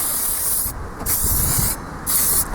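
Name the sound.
spraying cleaner onto motorcycle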